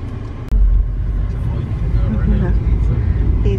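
Inside a moving car with a newborn aboard, a low steady engine and road rumble carries on under nearby talking, with a sharp thump near the start.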